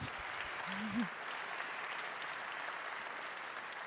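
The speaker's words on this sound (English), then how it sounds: "big round of applause" An audience at a live event in Kitchener gives a round of applause, heard as steady, fairly faint clapping throughout with no speech over it.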